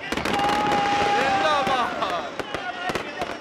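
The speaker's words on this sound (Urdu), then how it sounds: "اس موقع پر دریائے ماسکو رنگا رنگ آتش بازی سے منور ہو گیا۔" Fireworks bursting over the Moscow river during an Independence Day celebration cruise, with a whistling rocket followed by a rapid series of crackling pops and bangs at moderate distance.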